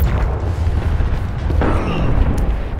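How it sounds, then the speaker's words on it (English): Loud, dense booming and rumbling fills the whole span, like a barrage of rocket explosions from the Pharah hero's ultimate in a competitive Overwatch match, with game effects layered over it. "Try to get him from my barrage."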